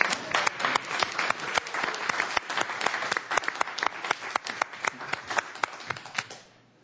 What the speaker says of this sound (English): I think we should give Anita a big round of applause, too.